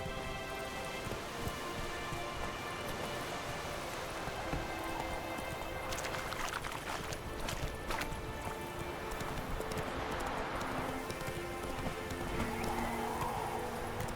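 Horse hooves clip-clopping steadily through rain in The Witcher 3: Wild Hunt, a continuous drumming hoofbeat over a wash of falling raindrops, with occasional brighter splashes, no talking.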